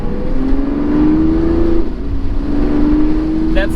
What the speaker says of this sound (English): I'm going to go from a low speed and accelerate.